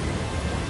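Thunder following lightning in the video game Shadow of the Colossus, a dense, continuous low rumble filling the short moment, with rain-like hiss over it.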